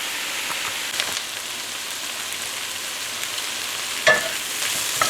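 Vegetables caramelize in a hot frying pan with a continuous dense sizzle and crackle, plus one brief scrape or knock partway through.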